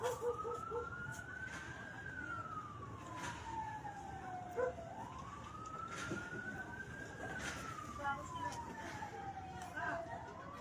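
A fire truck siren wails in long rising and falling sweeps, loud and approaching, during a fire at Isla Puting Bato in the port area of Manila, with street noise and intermittent voices beneath it.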